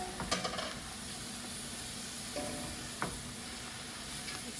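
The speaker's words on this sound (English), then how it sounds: "I'm gonna add this to my onions. I'm gonna stir this really well." Escarole stirred into sizzling onions in a soup pot, a soft steady sizzle with a few sharp spoon knocks and stirring scrapes, no voices.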